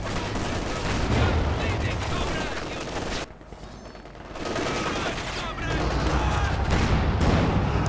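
Gunfire and anti-tank gun shots in a Company of Heroes 2 battle, dense loud bursts of shooting and impacts that dip briefly before resuming.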